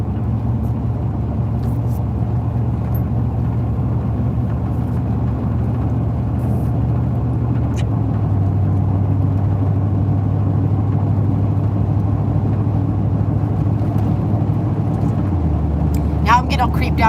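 A car travels on the road behind, heard as a low steady engine and tyre rumble that shifts pitch a couple of times, continuous and fairly loud beneath the cabin.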